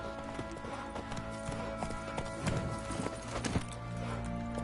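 Roach the horse galloping in The Witcher video game: rapid rhythmic hoofbeats under a dense layer of game music and ambience, moderately loud and continuous.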